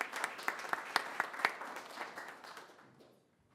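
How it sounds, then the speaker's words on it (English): Applause for award recipients at a city council session, a brief round of clapping with several sharp claps near the start that thins out and fades to quiet by the end. "And we want to applaud you for your efforts."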